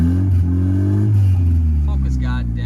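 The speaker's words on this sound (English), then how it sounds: "if I rev it a bit" Nissan Skyline R32 engine revving, a deep harmonic drone that climbs in pitch and then settles back down, close and loud, with a voice talking partly over it.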